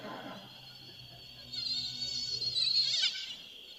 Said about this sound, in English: This is a slow mosquito.